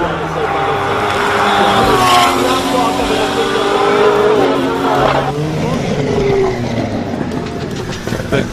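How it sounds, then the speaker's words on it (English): Lotus and Ferrari race cars at the SIMOLA Hill Climb 2023 roar past, engine notes rising and falling through gear changes over a steady loud wash of noise, with voices mixed in underneath. "And the Lotus Ferrari, just listen."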